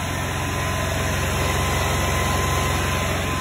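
A small Club Car golf cart engine idles steadily and close with slightly low RPMs, a loud, even low putter with a constant mechanical whine and no talking.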